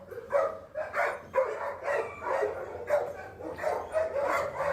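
Puppies yap and bark in a repeated run of short, high-pitched calls, fairly close and steady throughout.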